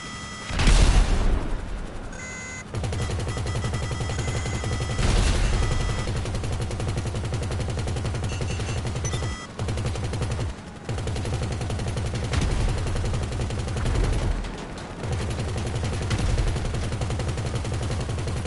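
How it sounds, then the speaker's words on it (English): Rapid, sustained bursts of heavy automatic gunfire with explosive rounds in GTA, loud and near, running almost continuously with booming impacts and brief gaps. "Oh, you got explosive rounds, that's cute."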